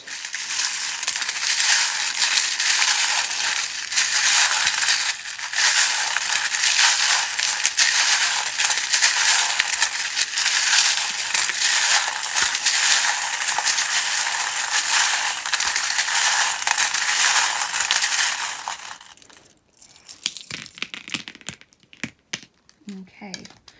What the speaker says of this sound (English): charms being shuffled